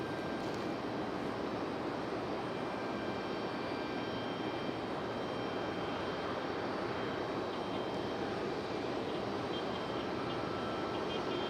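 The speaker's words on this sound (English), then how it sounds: "There's our United coming in from SFO, making its way around the corner here finally." A United A319 airliner in from San Francisco taxis at Raleigh-Durham airport, its engines giving a steady, unbroken broadband roar and whine that holds at an even level throughout, with no voices.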